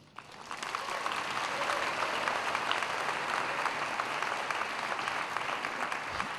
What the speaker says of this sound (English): Why don't you give yourselves a clap?